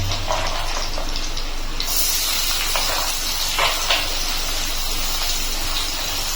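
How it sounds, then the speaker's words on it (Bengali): Chopped onion added to hot oil with crushed garlic: a loud, continuous hissing sizzle, close and steady throughout. "তারপর আমি দিয়ে দিচ্ছি পেঁয়াজ কুচি"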